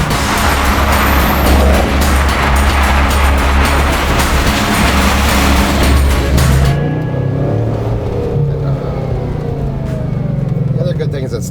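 A Bugatti Chiron of about 1,500 horsepower accelerates hard with a loud, sustained, close roar for roughly seven seconds, then drops away to a quieter interior hum with voices.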